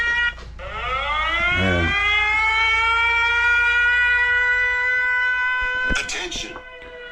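An air raid civil defense siren in Kherson wails loudly and steadily, rising and then holding a long sustained tone. Brief voices and a clatter break in near the start and end.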